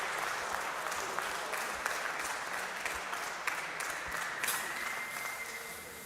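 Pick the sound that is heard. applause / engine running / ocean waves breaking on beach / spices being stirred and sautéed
applause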